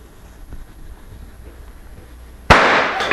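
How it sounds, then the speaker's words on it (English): A small firecracker goes off with a single sharp, loud bang after a few seconds of quiet outdoor ambience, followed by a brief ringing decay. "This one is not a big firecracker."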